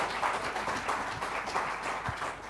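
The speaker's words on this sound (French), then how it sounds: "on peut applaudir vos 3 intervenants" An audience applauds three speakers at an economic conference, a continuous wash of clapping that sounds somewhat distant and fairly quiet, holding steady throughout.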